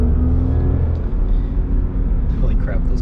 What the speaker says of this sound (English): Holy crap, those tires are loud.